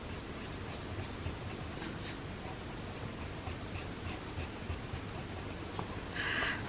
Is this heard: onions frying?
no